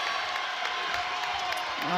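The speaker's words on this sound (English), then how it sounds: "Look at this crowd come to life in Greenville" A women's college basketball crowd in Greenville roars and cheers in a packed arena, a sustained loud swell of voices and whoops with an announcer talking over it.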